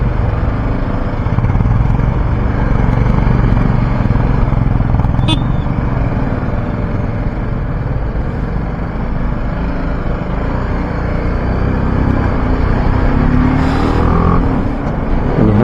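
Steady, dense road traffic roar in a traffic jam, with cars and motorbike engines droning continuously nearby, no pauses, loud throughout.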